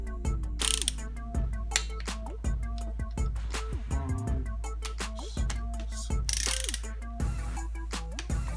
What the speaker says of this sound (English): that's how we torque down the ink